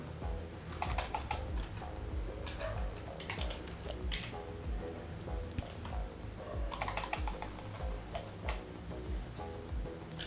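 Fast, uneven clicking of keys on a computer keyboard, close and fairly clear, with bursts of rapid keystrokes and short pauses throughout.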